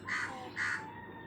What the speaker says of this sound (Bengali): কাক ডাকে যায়